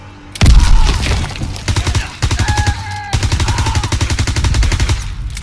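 A grenade blasts in the Call of Duty WWII video game, a loud boom followed by rapid gunfire and clatter that runs on close and dense.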